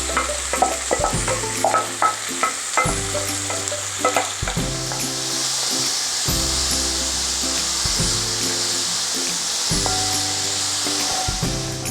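Sliced onion fries in hot oil in a heated pan for Kerala-style beef cutlets, a continuous loud sizzle broken by regular scraping strokes of a spatula stirring it.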